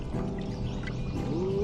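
Fast-moving river water rushes continuously around a pontoon, a dense steady wash with a faint rising tone near the end, close and loud, no talk.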